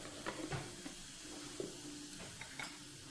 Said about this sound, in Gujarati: હવે આપણે એમાં થોડું જીરાનો વઘાર કરીશું